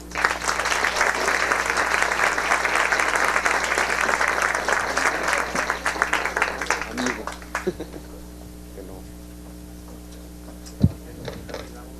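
Audience at a parliamentary debate session applauds an introduced speaker, dense steady clapping for about eight seconds, then thinning out to scattered claps against a quiet hum.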